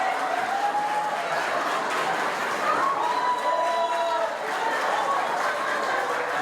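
Wedding guests applaud a bowing bride and groom, a steady wash of clapping and cheering, with an occasional whoop rising over the crowd.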